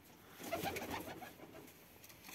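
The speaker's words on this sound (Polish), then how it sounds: "Zobaczcie, oswojone gołębie są." Soft cooing of tame homing pigeons close by, a few low murmuring calls over a faint hiss of background noise.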